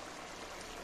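Water poured into a simmering pot of jackfruit curry gravy, a steady broadband splashing pour running continuously and fairly close, with no voices over it.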